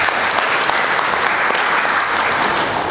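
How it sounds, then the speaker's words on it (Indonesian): Loud, dense applause from a large audience at a formal religious education gathering, a continuous roar of clapping throughout. "pengen tepuk tangan dulu lah"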